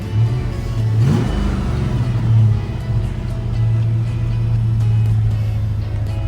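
A running car engine with an exhaust leak idles loudly and close during driveline repairs on a Fox-body project car, a steady low rumble rising briefly in revs near the start, with no talking.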